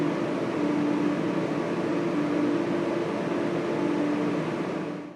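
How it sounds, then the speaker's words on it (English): GPUs, fans and pumps in the data hall of the Colossus AI cluster make a steady, even hum with a faint tonal whine. It continues unbroken for several seconds with no voices. "When all these GPUs, fans, and pumps work together, they produce a humming sound like this."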